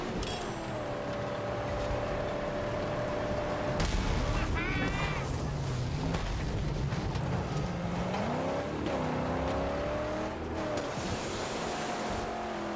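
Cars being wrecked in the Mad Max video game roar with dense engine noise, rising and falling engine whines, and bursts of crashing, gunfire-like impacts. The game audio stays loud and continuous throughout.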